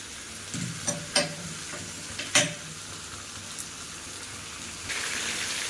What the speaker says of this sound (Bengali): মিডিয়াম ফ্লেমে মাংসটাকে কষবেন